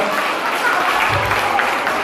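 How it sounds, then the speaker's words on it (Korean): Wedding guests applaud in a dense, steady wash of clapping that fills the short moment, loud and close, with no clear voices over it. "큰 박수 부탁드리겠습니다"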